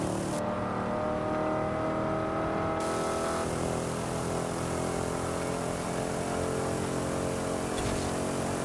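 Stock Ford Mustang engine in Forza Horizon 5 revving steadily toward 7,000 RPM, a loud continuous rising engine drone with strong harmonic layers, heard alone without talk.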